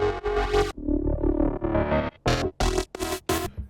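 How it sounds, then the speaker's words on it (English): Gritty, distorted growl bass synth with the reverb removed, so each note stops tight and dry. A long sustained phrase gives way to several short, punchy stabs, loud and close, with no voice over them. "I actually turned off the reverbs that were on the growler here,"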